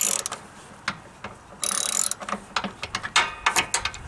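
Socket wrench with a 9/16 socket loosening a guard bolt on a Craftsman MTD lawn tractor, rapid ratcheting clicks in short bursts alongside clanks of metal parts, close and loud.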